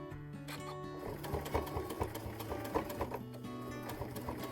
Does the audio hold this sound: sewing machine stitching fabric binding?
yes